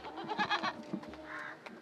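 A goat bleating in a rural village, a few short wavering cries close by, followed by a brief quieter call, with no talk.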